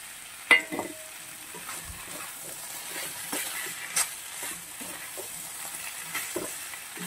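Fried brinjal sautéed in spice paste in a pan sizzles and hisses softly, with occasional spatula scrapes and stirring knocks, close and fairly quiet, no voices.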